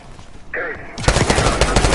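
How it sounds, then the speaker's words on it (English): Rapid automatic gunfire in Call of Duty Black Ops 6 bursts in loudly after a brief tonal electronic sound, dense and close-sounding bursts continuing to the end. "You hearing gunfire?"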